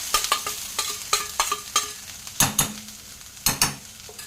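Fresh grated coconut is stirred into hot ghee in a pan, with a series of sharp scraping stirs against the metal in an irregular rhythm over a faint sizzle, close up and without voices.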